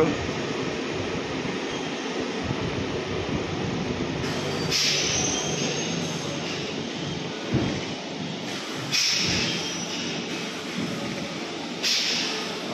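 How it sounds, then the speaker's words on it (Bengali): A Howrah–Purulia local train pulls into platform 1 at Adra station: a loud, continuous rolling rumble of wheels on rails, broken by several brief high metallic squeals, with no speech. "আদ্রার 1 নম্বর প্ল্যাটফর্মে ট্রেন দিয়েছে, দেখতে পাচ্ছ।"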